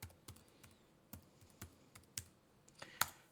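Rapid keystrokes tapped on a computer keyboard, a dozen or so sharp clicks in an uneven rhythm with a louder final press, close and quiet with no talking.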